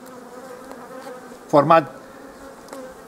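Honeybees buzz around a hive while a beekeeper arranges the frames of the brood nest for overwintering, a brief louder swell of buzzing rising over a soft steady hum, with a faint word spoken.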